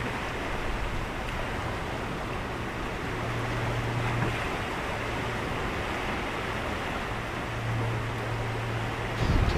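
Surf breakers roll onto the shore at Bowness-on-Solway as a constant wash of distant waves, blended with wind buffeting the microphone and a low steady hum.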